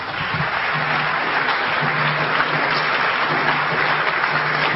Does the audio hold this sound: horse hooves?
no